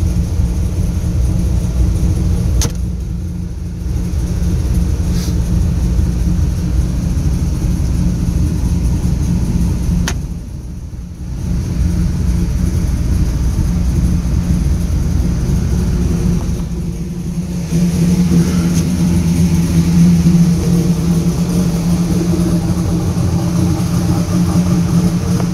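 A 2002 WS6 idles as it warms up after a cold start, its exhaust routed through the mufflers with the cutout pipes closed, giving a steady deep rumble with a couple of brief dips over nearly half a minute.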